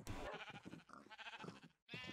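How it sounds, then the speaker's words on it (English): Rainbow sheep in a video game bleat in a steady, wavering cry that breaks off briefly and then resumes, close and clear. "So far as I know, I have the only population of rainbow sheep."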